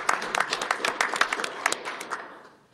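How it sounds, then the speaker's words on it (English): A small group claps at a village board meeting, with sharp scattered hand claps near the listener that thin out and fade after a couple of seconds. "We're applauding Sam like he deserves all the credit."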